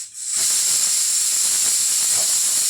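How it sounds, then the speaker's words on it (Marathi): Cumin seeds sizzle and crackle in hot oil in a pan while jeera rice is being made, a loud, steady, close hiss that starts suddenly and continues without a break. "थोडंसं मी जिरं टाकलं आहे. जर असं तडतडलं"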